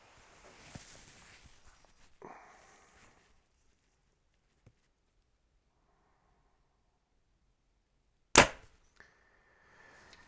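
A Bowtech Solution SS compound bow releases with one sharp, loud snap after a few quiet shuffles and clicks, followed by a faint brief ring and near silence.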